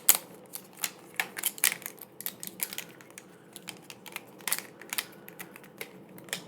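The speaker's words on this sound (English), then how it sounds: "Pens always make great sounds." Pens being handled and clicked up close, a run of sharp, irregular clicks and taps with small rustles between them, fairly quiet and with no voices.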